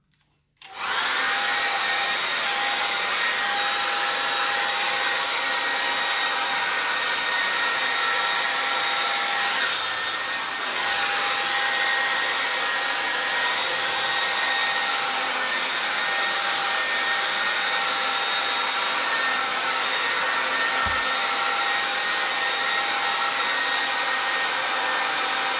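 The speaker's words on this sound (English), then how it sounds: "The hairdryer is going on." A hair dryer switches on abruptly and runs at a steady, loud whirring roar for the whole stretch, with a brief dip midway.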